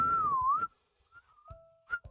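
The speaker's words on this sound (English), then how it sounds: "I can't really whistle." A person tries to whistle, producing a wavering breathy tone that bends up and down, then a few shorter faint whistle notes with small clicks and breaths between them.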